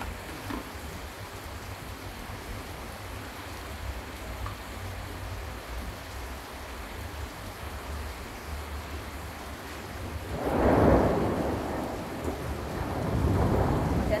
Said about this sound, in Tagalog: Yan, kumukulog na po. Kumukulog na. Lakas ng ulan.